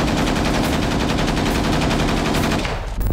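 Rapid machine gun and automatic rifle fire in combat near Klishchiivka rattles in a dense, continuous burst for nearly three seconds, loud and close, before cutting off into a few trailing shots.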